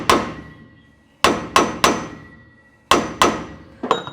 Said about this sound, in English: Now you'll notice I'm using a brass hammer